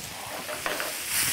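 Chopped tomatoes hit a hot pan with a short burst of sizzling and hissing, close and fairly quiet, with faint stirring and no talk.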